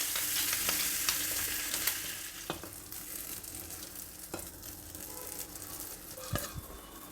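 Paddu batter sizzles in a buttered paddu pan, a continuous crackling hiss that fades slightly, punctuated by sharp clicks and taps of utensils on the pan, no talking.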